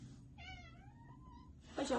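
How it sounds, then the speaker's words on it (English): A house cat meows nearby in a quiet room, one drawn-out rising-and-falling meow followed by a brief softer call, then a sudden louder burst of noise at the end. "Sorry guys, my cat."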